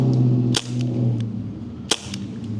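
Two sharp, close cracks from a Daisy Powerline 426 airgun, about a second and a half apart, each a quick snap over a steady background hum, with no talking.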